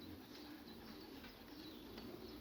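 Soft continuous cooing from young pigeons inside a loft, a low murmuring flock sound with faint chirps and occasional wing flutters, no voices.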